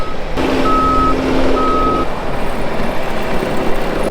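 A tracked machine backing down a hill on a landscaping job sounds a steady reversing beep in two long tones over a loud, constant diesel engine rumble, close by and without talk.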